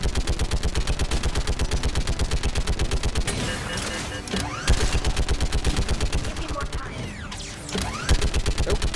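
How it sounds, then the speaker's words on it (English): Mounted turret in the Mass Effect 3 video game firing rapid, relentless automatic bursts, loud and close, with brief mechanical whines and impacts mixed in as the barrage continues without pause. "But the turret makes short work of him"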